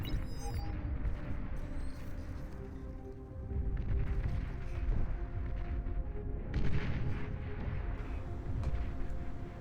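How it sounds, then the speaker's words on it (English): Arquebuss siege units fire heavy rail cannons in burst fire during an 8v8 Beyond All Reason deathmatch, a loud continuous barrage of booming artillery-like blasts layered over rumbling battle noise. "Lining up for their debut right here with the Arquebuss firing away with their heavy rail cannons"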